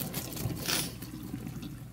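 Water poured off boiled potatoes into a sink, a steady broadband splashing rush that swells slightly near the middle and continues throughout at close range, with no talk.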